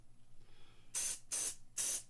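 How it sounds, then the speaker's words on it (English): Three short, loud bursts of Stoner mold release sprayed from an aerosol can onto a bottle-stopper form before epoxy work, each a sharp hiss lasting about a third of a second, following a quiet stretch. "we spray it with stoner mold release"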